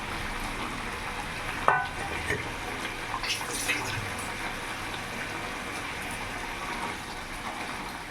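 Big catla fish pieces go one by one into boiling curry gravy for kalia, giving a steady close bubbling and sizzling with a sharp clink of a utensil early on.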